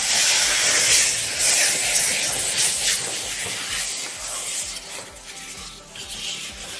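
A loud, bright hiss of ginger juice hitting a very hot wok of stir-fried Chinese kale over high heat, sizzling strongly at first and then settling into a steady, slightly softer steam.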